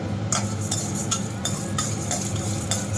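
Urad dal roasting in oil in a pan, with a steady low sizzle under repeated scraping strokes of a spoon stirring the lentils, close and continuous with no talking.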